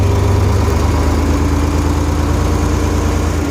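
A TM1200 tractor engine with a power shift transmission runs loud and steady, a continuous heavy low rumble that holds its pitch throughout, heard up close with no talking.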